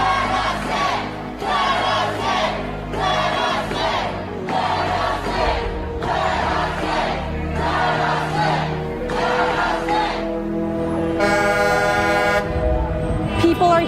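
Large protest crowd of a couple thousand people on a state capitol lawn, with a rhythmic series of horn blasts repeating over loud crowd noise, followed by a longer sustained horn toward the end.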